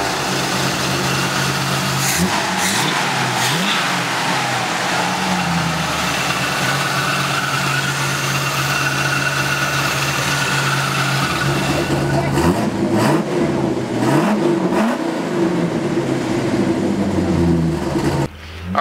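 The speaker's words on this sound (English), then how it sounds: "You're going to hear that exhaust." Loud, close exhaust note from a 1969 Pontiac Firebird Trans Am Ram Air IV clone, a steady rumble broken by several sharp revs that climb and fall, with a brief higher engine whine near the end.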